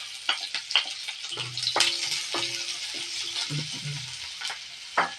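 Onions frying in a pan with dried red chillies added, a steady close sizzle with scattered stirring clatter and spoon scrapes.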